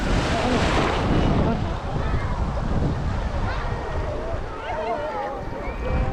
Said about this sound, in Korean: 어 파도 올려오는 거 같아